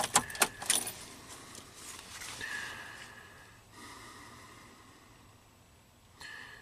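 A car key jingles and clicks at the start as it is turned to the on position, followed by faint whining electronic tones and a soft chime from a vehicle after a wiring harness fire, with no voices.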